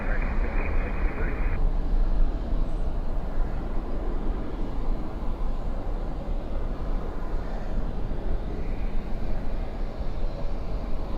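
An American Airlines airliner rolls for a night takeoff on runway 18 left at Dallas/Fort Worth International Airport, a steady heavy roar that holds evenly throughout.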